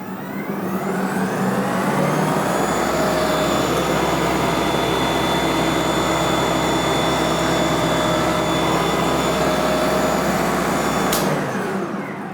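A Wild Badger 40V electric snowblower starts up and runs with a steady, loud whirring hum that holds an even level throughout, then cuts off abruptly near the end.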